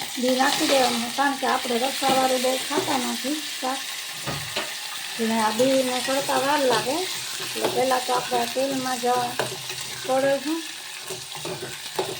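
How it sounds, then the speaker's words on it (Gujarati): Cumin seeds sizzle after being dropped into hot oil for a vegetable dish, a close, steady crackle with stirring sounds and a voice talking over much of it. "તેલ સરસ થઈ ગયું હે જીરું નાખી દઈએ"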